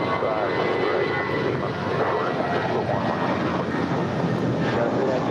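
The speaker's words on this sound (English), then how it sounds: "this departure is United Airlines 319 departing to Puerto Vallarta. That's an A320." Airbus A320 airliner departing LAX on its takeoff roll, a loud, continuous broadband engine roar that holds steady for the whole stretch.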